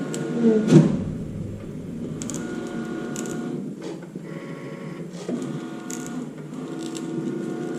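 A vinyl cutting machine slices out jersey numbers, its carriage whirring and stepping in short mechanical bursts with a soft thump near the start.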